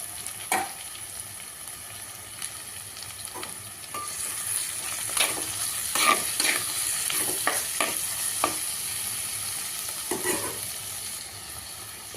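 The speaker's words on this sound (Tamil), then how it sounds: "வெங்காயம் பாதி வெந்துருச்சுங்க. தக்காளி போட்டுக்கலாம்." Onions and tomatoes frying for chicken gravy, a constant close sizzle punctuated by irregular clicks and scrapes of a stirring spoon against the pan.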